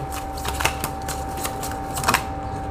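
A tarot card being handled and turned over, giving a few light papery flicks and taps close up over a steady background hum.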